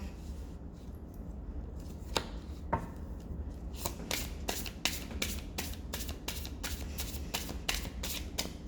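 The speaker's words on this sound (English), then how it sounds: "I'm going to clear the deck now" A Llewellyn tarot deck is shuffled close up, quiet riffling at first, then a run of crisp, evenly spaced card snaps in quick succession.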